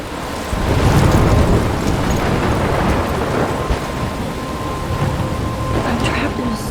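A thunderstorm in the video game Life is Strange, a heavy roll of thunder swelling and rumbling over dense, steady rain that keeps pouring throughout, loud and enveloping.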